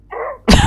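A single close, loud sneeze from a character in the video game Quantum Break, with a short breathy intake leading into a sharp, bursting release.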